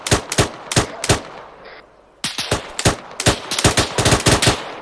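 Heavy .50 cal machine gun fire in the Arma 3 video game: loud, close bursts of rapid booming shots, a pause of about a second, then more sustained rattling volleys.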